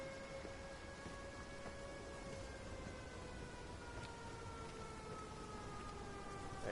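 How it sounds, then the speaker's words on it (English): Wailing siren in the video game Everybody's Gone to the Rapture, a steady rising-and-falling tone heard at a distance over a constant rain-like ambient hiss, with no talking. "I think I should go towards that siren"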